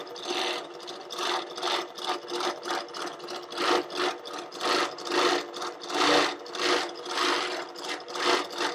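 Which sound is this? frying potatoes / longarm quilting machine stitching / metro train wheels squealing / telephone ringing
longarm quilting machine stitching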